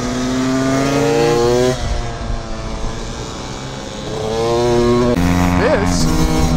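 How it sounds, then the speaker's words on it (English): A Yamaha YCF 125 four-stroke pit bike engine rasps and revs nearby with a throaty, buzzy tone at a minimake gathering, its pitch rising and falling as other small motorcycles pass. "This is a 125 YCF. And it sounds throaty"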